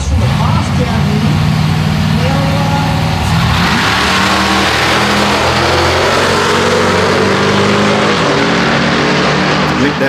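A Tuff Street Cars class street car on drag radials makes a run at Sydney Dragway, its engine revving loud and steady throughout, with crowd and commentary noise underneath.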